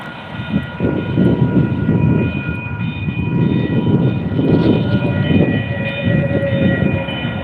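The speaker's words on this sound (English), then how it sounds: "Got the light rail approaching." A light rail train on a North Sacramento street rumbles steadily and loudly for several seconds as it draws near, a broad rolling roar with sustained tonal whines layered on top and no voices.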